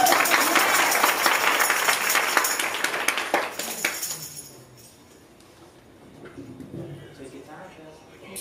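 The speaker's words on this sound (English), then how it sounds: "Y'all clap your hands." Audience clapping at a spring music showcase, loud and dense for about four seconds before fading to a quieter room with scattered sounds and faint voices.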